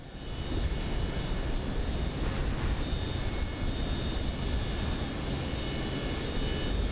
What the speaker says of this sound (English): we are taxiing downwind parallel to the runway